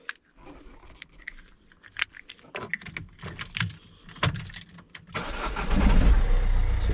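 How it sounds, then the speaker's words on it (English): A Peugeot 407 is started: clicks and small mechanical taps from inside the car lead into the engine cranking and catching, settling into a loud, steady idle close by. "So start the car"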